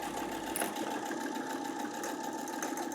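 A Brother NV50S sewing machine stitches through thick fabric with a steady, even mechanical whir and a fast rhythmic needle chatter, close and continuous with no voices.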